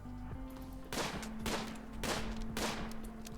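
Bursts of gunfire from a Rimworld colony battle come in three or four heavy volleys over a steady low hum, with no talking.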